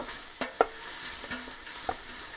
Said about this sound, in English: The onions are frying away